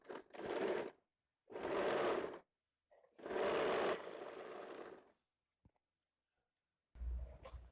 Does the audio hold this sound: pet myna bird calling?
no